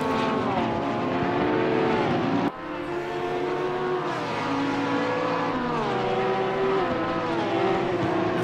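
A 2018 Porsche GT3R race car engine in Assetto Corsa Competizione at Spa howls loudly and continuously, rising and dropping in pitch through gear changes, with one abrupt shift partway through.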